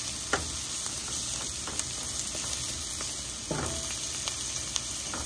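Duck egg frying in a pan with turmeric, salt and jaggery gives a steady sizzle. The spatula stirs it with a few sharp scrapes and taps, and no one speaks.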